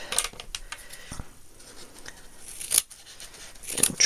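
Scissors trimming cord for a DIY Thanksgiving basket made from Dollar Tree supplies, giving a few close, crisp snips spread across the moment, with quiet handling noise between cuts.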